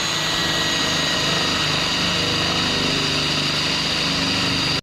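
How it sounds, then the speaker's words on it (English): A drill bores through a vehicle frame with a bracket attached on a Pioneer 500 side-by-side, giving a continuous loud, even whine that cuts off abruptly at the end. "we're just going to drill through the frame with the bracket attached"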